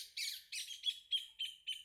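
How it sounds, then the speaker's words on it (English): Birds chirp outdoors in a quick series of about six bright, high tweets, evenly spaced and fairly close, with nothing else audible around them. "sorry, the birds."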